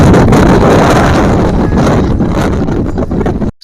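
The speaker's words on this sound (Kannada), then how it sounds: "ಸಿಕ್ಕಾಪಟ್ಟೆ ಗಾಳಿ ಬೀಸ್ತಾ ಇತ್ತು" Strong wind roars and buffets the microphone continuously on a hilltop, loud and close, with gusty rumbling throughout before cutting off abruptly at the end.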